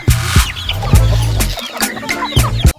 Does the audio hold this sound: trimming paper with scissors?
no